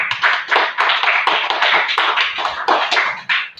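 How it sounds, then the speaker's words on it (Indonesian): A classroom of students applauds the Tundra group during a lesson on ecosystems, a dense, steady burst of many hands clapping that fills the whole span at close range with no voices over it. "tepuk tangan untuk kelompok Tundra ya"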